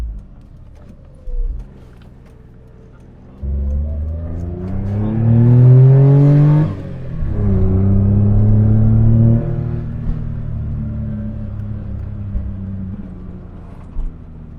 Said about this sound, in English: We're driving up Mount Wellington.